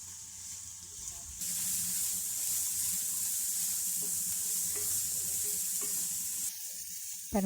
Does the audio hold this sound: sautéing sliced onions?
yes